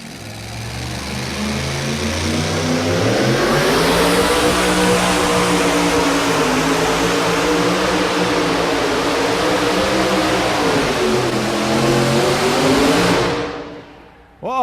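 A Chevrolet two-wheel-drive pulling truck out of Fort Wayne, Indiana roars at full throttle during a truck pull final in Louisville, Kentucky, a loud sustained engine drone with shifting pitch that holds for about thirteen seconds before cutting off abruptly.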